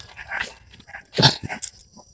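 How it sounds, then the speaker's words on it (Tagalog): Several dogs kept by a manager bark in short, uneven bursts at night, with one loud yelping bark standing out in the middle of the sequence. "Marami palang alaga ng aso si manager."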